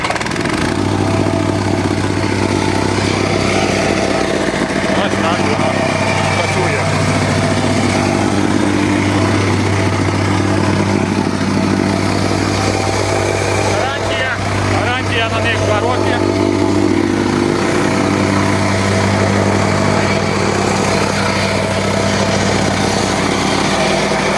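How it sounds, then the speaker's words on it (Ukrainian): The engine of a 90 kg Mast plate compactor runs steadily and loudly throughout, holding a constant droning hum, while someone talks over it. "Трамбовки хороші на 90 кг і даємо газу подивитись, як вона працює"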